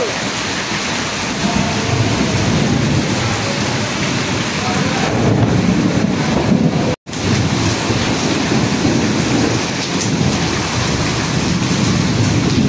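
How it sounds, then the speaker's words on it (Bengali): Heavy rain pours at 4 a.m. during a nighttime storm at an overnight charity cooking event in Kulgachhi, a dense, loud, steady roar filling the whole stretch with one brief dropout midway and no voices. "বিশাল বৃষ্টি হচ্ছে,"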